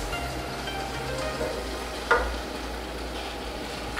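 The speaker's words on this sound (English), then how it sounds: "So we're going to add in our brown rice." Pre-cooked brown rice tipped into a hot pan, a steady soft sizzle of frying with a brief stirring clatter partway through, close and alone.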